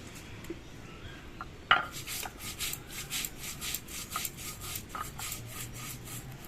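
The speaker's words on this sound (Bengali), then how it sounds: "কালো জিরে এটা ভেজে রেখেছিলাম সেটা বেটে নিচ্ছি" Rhythmic scraping and grinding of a stone on stone as roasted black cumin is ground, repeated strokes at a steady pace, close and fairly quiet with a sharp knock near the start.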